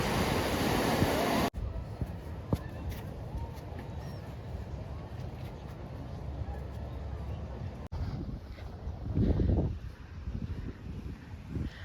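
Wind roars across the microphone as a boat pounds over sea waves, with hull slaps and spray bursts amid rushing water; voices speak briefly.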